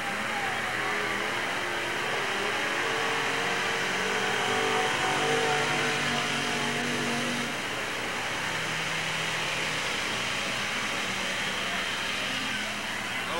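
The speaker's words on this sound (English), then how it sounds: "Here comes McCown now, running in second place" Street stock cars race around the Merced Fairgrounds Speedway oval, their engines roaring and revving in a continuous loud wash of sound that rises and falls as the field passes.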